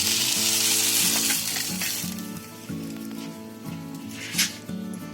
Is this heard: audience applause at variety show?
no